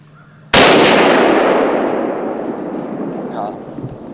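A single loud rifle shot fired at a deer during a hunt cracks sharply outdoors, then rolls away in a long, slowly fading echo across the landscape.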